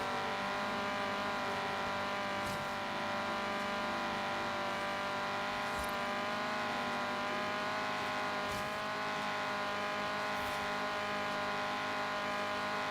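An Alumicraft racer's engine holds a loud, steady high-speed drone in sixth gear during a Forza Horizon 3 race, with a few faint bumps and knocks over the continuous roar.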